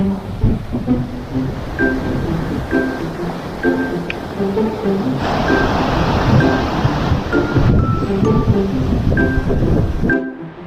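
Strong sea waves crash and wash along a rocky shore at Koh Larn, Thailand, a loud, continuous surf roar with wind gusts against the microphone and no talking.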